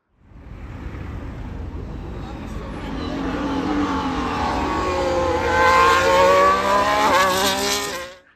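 A Ferrari accelerates hard on a drive in Maranello, Italy, its engine note climbing steadily in pitch as it rises from quiet to a loud, close, revving roar before cutting off abruptly.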